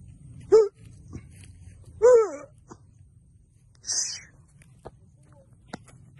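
A dog gives a few sharp, high yelping barks, spaced a second or more apart, against quiet outdoor background noise on a farm.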